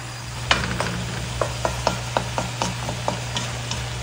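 A spatula stirs fried tilapia with onion leaves and bottle gourd in a pan, giving irregular scraping clicks over a low steady sizzle and hum.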